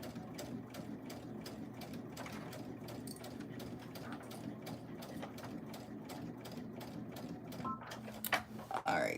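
A sewing machine stitches fabric in a steady run of rapid mechanical clatter with regular needle ticks, holding at a constant level and then breaking into a few louder clunks and stops near the end.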